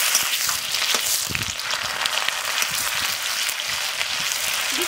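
Chopped onion sizzles in hot oil in a pan for mutton curry, giving a steady, dense frying hiss with faint scraping and crackling throughout.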